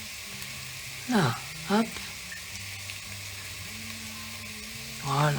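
Onions frying in a pan for a coquillettes risotto with ham and comté, with a steady low sizzle running under brief bursts of a voice talking close by.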